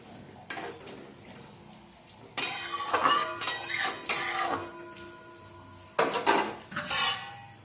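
Rohu fish being stirred in a metal pan for a steamed bhapa dish, giving bursts of clattering, scraping utensil-on-pan clinks in two separate spells, fairly close, with quiet gaps between and no talk.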